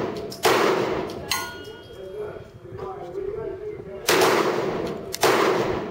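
Pistol shots from a Grendel P30 or FN Five-seveN fired at a target on a range, three sharp loud cracks spaced apart, with a voice talking faintly between them.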